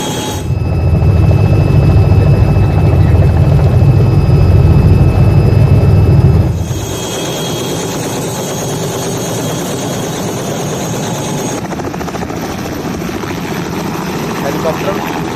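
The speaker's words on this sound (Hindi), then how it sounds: "ये एक आधुनिक, बेहद अत्याधुनिक हेलीकॉप्टर जिसे किराए पर लिया गया है" A modern hired helicopter runs loud and close, a heavy low rotor thrum and engine whine for several seconds before dropping to a quieter, steadier engine drone, with people talking over it.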